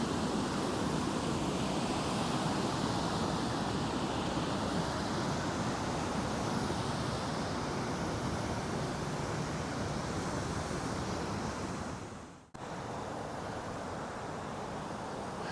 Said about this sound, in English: there's a lot of water coming down